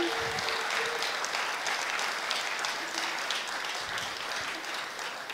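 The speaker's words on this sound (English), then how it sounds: "One applause for them." Sustained applause from a conference audience for the event team, dense and steady throughout, with a faint tonal hum early on and no voices on top.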